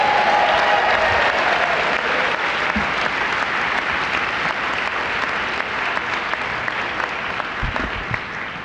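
Sustained applause from an audience at the 44th Annual Pasadena Mayor's Interfaith Prayer Breakfast, dense clapping filling the room and slowly thinning toward the end, with no talking over it.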